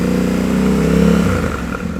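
A Yamaha Tenere 700 World Raid motorcycle engine revs hard through its exhaust, a rough throaty roar that rises and then eases off.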